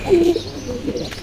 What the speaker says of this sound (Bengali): দেখুন আমাদের কবুতরগুলো কিভাবে আস্তে আস্তে বাইরে বের হচ্ছে